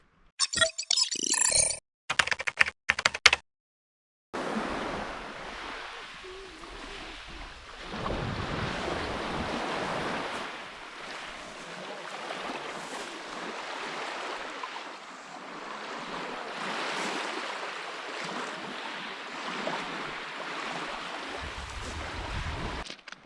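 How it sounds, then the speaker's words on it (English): Waves wash onto the shore at Myrtos beach in Kefalonia, Greece, a steady surf roar with gusting wind buffeting the microphone, after a few brief choppy bursts at the start. "we finally made it to the famous Myrtos beach"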